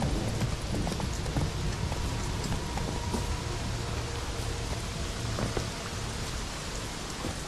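A horse gallops in The Witcher 3, its hooves drumming in a quick, steady clip-clop under a wash of rain-like ambient noise, moderately loud throughout.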